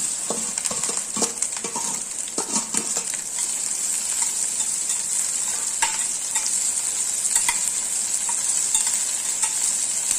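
Chopped okra frying in a pan for a South Indian poriyal with curry leaves, a loud steady hiss of oil with frequent clattering stir strokes early on, then mostly continuous sizzling.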